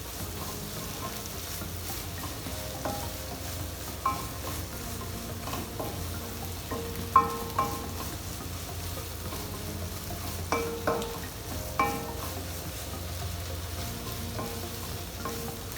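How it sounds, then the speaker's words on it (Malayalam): Watery onions fry in a pan with a steady soft sizzle. Scattered clinks and scrapes from stirring are heard close by, and no one speaks. "സവോള കുറച്ചുകൂടെ ഒരു വെള്ളമുള്ള വാട്ടറി ആയിട്ടുള്ള സവോള, അതുകൊണ്ട് പാടാണ്, താമസമുണ്ട് ഫ്രൈ ആയി വരാനായിട്ട്"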